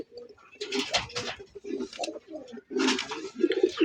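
A male pigeon coos close up in repeated throaty, rolling bursts, with brief gaps between calls and no talk over it.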